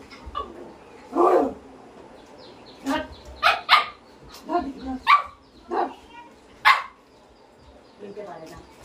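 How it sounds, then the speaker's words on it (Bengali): A dog barks in a series of sharp, separate bursts, close and fairly loud, spaced irregularly over several seconds. "angry dog, angry dog dog"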